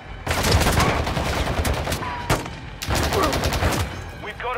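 Rapid automatic gunfire from the video game Call of Duty Modern Warfare II crackles in loud, sustained bursts with brief gaps, layered into a chaotic close-range firefight.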